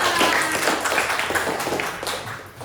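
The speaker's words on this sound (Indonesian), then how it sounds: "Tepuk tangan untuk semuanya" A classroom of students claps together at the end of a lesson, a brief dense burst of clapping that fades slightly toward the end.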